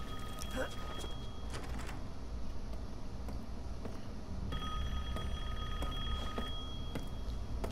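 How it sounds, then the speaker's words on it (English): A telephone rings in a video game, its repeated electronic trill sounding in two bursts at moderate loudness amid game ambience. "Oh, that's the phone ringing."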